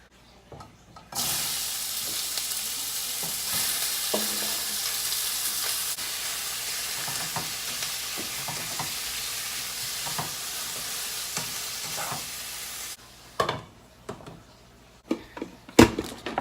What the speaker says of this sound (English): now I'm going to put it into a pan of oil and just like lightly salt and pepper it